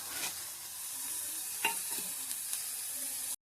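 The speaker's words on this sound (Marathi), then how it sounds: "तर आपण नुसती अशी परतून घ्यायची." Wild mushrooms stir-fried without oil with masala, turmeric and salt, a steady soft sizzle with a few light scraping stirs of a spoon, close and alone.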